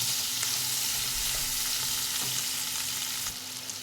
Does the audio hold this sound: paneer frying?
yes